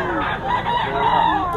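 Chickens and a rooster at a crowded chicken market, with clucking and a crowing call over a busy background of birds, close and fairly loud.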